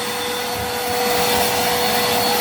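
A vacuum cleaner runs in a steady, close, unbroken whoosh with a faint whine, used to pull dust off a surface during waterproofing prep. Its tone stays even throughout, with no voices.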